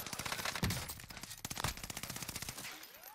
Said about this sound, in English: I don't know whose Tommy gun this is, but I'm running it.